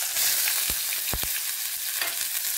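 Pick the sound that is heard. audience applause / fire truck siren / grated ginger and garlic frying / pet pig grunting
grated ginger and garlic frying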